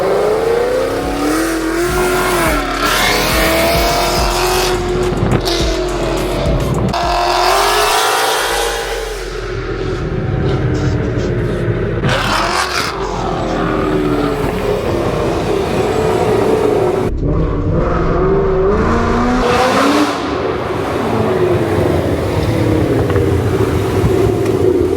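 Loud Ford Mustang GT exhaust while driving through city streets, a continuous heavy roar rising and falling with throttle through shifts, close and overwhelming for the whole stretch with no talk.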